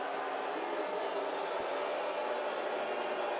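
A soccer stadium crowd during a Tampa Bay Rowdies versus Colorado Springs Switchbacks match reacts to a foul, a steady wash of distant roaring voices holding evenly throughout.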